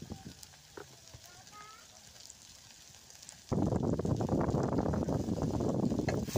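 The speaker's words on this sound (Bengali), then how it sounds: "রসুনটা এরকম করে তেলে ভাইজে পুরানো লাগবে" Garlic hits hot oil with mustard greens in a home kitchen, first quiet stirring and clinks, then a sudden loud, sustained sizzle of frying that continues to the end.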